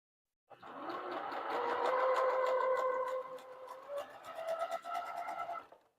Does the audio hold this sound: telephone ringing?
no